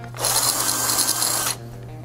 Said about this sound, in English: Helps if you put the drill bit in tight enough.